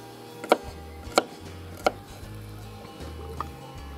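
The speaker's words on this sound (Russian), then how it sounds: "Теперь нарезаем чеснок," Four sharp knife strikes on a cutting board chopping garlic, evenly spaced at first and then a softer one, over a low background hum.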